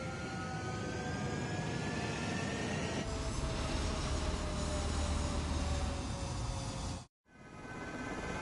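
Ace Combat 7 fighter jets taking off in the video game, a steady broad jet roar with a rising whine, continuous and fairly loud, cutting out briefly near the end before resuming.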